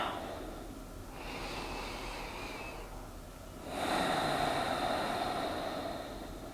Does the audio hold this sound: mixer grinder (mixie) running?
no